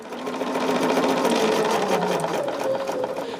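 A home sewing machine stitches cotton quilt-block fabric in a continuous, close, steady whir of rapid needle strokes for several seconds, with no voice over it.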